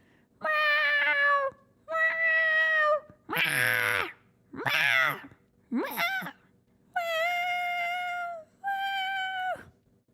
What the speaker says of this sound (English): Cat says hi.